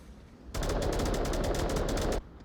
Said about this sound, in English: Lots of gunfire coming out from Mikey.